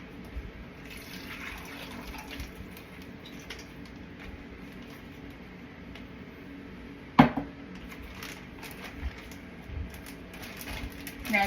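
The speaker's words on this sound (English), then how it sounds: "now I'm just going to pour this in the bag." Steak marinade poured into a bag, a soft continuous liquid trickle and glug, with a sharp handling knock partway through and faint rustling afterward.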